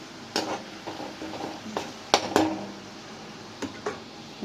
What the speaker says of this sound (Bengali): প্রায় ভাজা ভাজা হয়ে এসছে, দেখতে পাচ্ছে লাল হয়ে এসছে